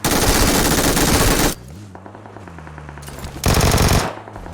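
AK assault rifle firing in PUBG Mobile, a loud sustained automatic burst, a pause with lower background noise, then a second long burst, close and dominant.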